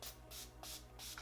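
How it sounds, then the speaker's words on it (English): Urban Decay All Nighter setting spray misted from a pump bottle in short hissing bursts, four quick puffs in an even rhythm, close and fairly quiet with no talking. "we are going to spray a little bit of Urban Decay All Nighter."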